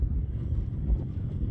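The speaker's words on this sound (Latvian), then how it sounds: "Un vējš ceļās." Steady wind roars and buffets the microphone out on the frozen lake ice of Lake Peipus, a continuous low rumble with no pauses.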